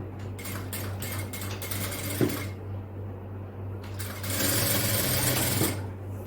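A sewing machine runs steadily while stitching fabric pieces together in a tailoring class, its motor hum continuous and close throughout, with one brief sharp tick partway through.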